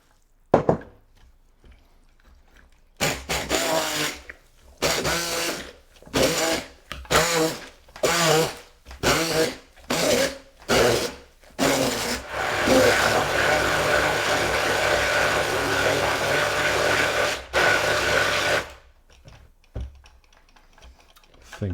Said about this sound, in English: ideally I'll be using a blender, but hey, stick blender will do the job